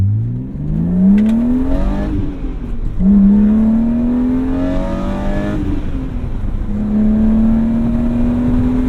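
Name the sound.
BMW M3 accelerating hard on a pull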